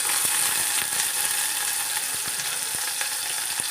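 Tomato and curry leaves sizzling in hot tempering oil, a bright continuous crackle with sharp little pops and spits scattered through it, close and fairly loud.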